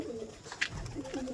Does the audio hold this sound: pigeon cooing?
yes